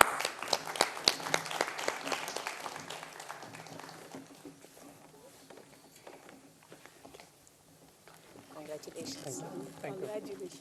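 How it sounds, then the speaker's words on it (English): Audience applause at a book launch, dense clapping at first that fades after a few seconds, with voices talking underneath and returning near the end. "Round of applause, please."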